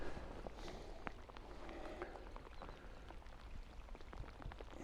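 Rain falls steadily at an outdoor carp fishing match on a cold day, a dense, even hiss scattered with small drop ticks and taps, with no voices.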